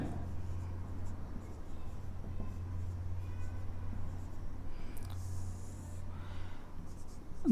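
Pen scratching out an accounting entry on paper, faint continuous writing strokes over a low steady hum, quiet and close, without speech.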